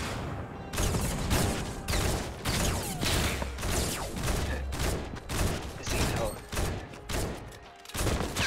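Rapid bursts of video game gunfire from a hunting rifle and other weapons, loud and dense, crackling almost continuously across the whole stretch with brief gaps between volleys.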